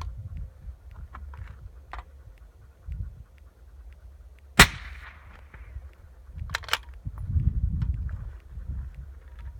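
A single suppressed 6.5 Creedmoor rifle shot through a Thunder Beast Ultra suppressor, a sharp muted crack midway with a short fading tail, amid quiet outdoor rustling and handling noise.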